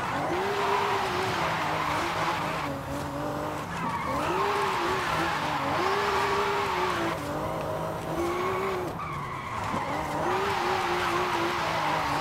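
A 1150HP Toyota Soarer drifting in Forza Horizon 5, its engine revving up and down in waves under continuous loud tire squeal, close and sustained throughout with no talking.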